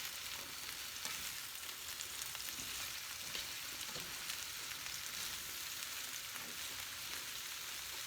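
Zucchini and summer squash frying in olive oil while being stirred, a steady dense sizzle with soft scraping stirs running throughout, fairly quiet and unbroken.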